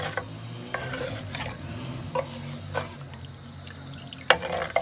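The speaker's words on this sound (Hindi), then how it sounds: "इसमें पानी शामिल कर रही हूँ।" Half a cup of water goes into chicken keema kachnar cooking in a handi pot, giving soft sizzling and liquid stirring with scattered scrapes and clinks of a spoon against the pot.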